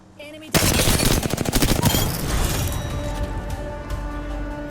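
Gunfire in the battle royale game Apex Legends, a sudden loud burst of rapid automatic shots that settles into a sustained rattle of fire. Game voice callouts sound faintly underneath.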